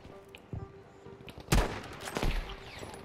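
Gunfire in the Battlefield V video game: a few sharp shots early on, then a loud close burst of rapid rifle fire with echoing tails, with no voices.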